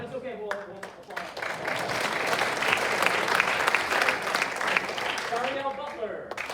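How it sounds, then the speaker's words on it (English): Audience at a senior awards ceremony bursts into sustained applause for a named student, a full, dense wash of clapping that builds and holds, with a voice speaking briefly at the start and end. "Oh, you can clap, that's okay, we'll applaud."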